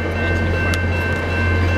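A westbound VIA Rail passenger train rumbles past close by in Portage la Prairie with a steady low drone and a sustained tonal hum, loud and continuous throughout.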